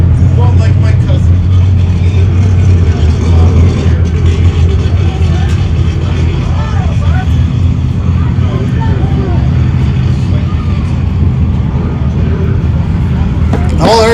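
Stock race trucks roaring around a dirt track at the High Desert 100 in Powell, Wyoming, a loud continuous engine drone swelling as they pass, under steady commentator talk.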